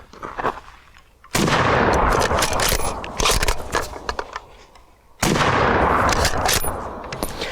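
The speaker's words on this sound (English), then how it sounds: "you kind of get, you know, more of a feel of that ridiculous boom that the 308 gives" Two heavy booming .308 rifle shots fired through a Dead Air Sandman suppressor, each loud and close with a long rumbling decay, plus a fainter crack between them and no talking.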